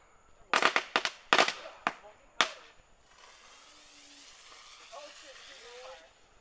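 Multicolored firework mortar shots in a video game burst as a quick series of sharp pops, followed by a long fizzing hiss of sparks with faint whistling tones, fairly close.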